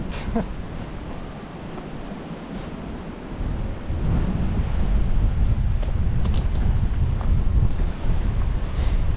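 Steady wind buffeting the microphone on an April countryside hike near Monkswell and Sampford Spiney on Dartmoor, a continuous low roar that grows louder and gustier partway through, with no talking.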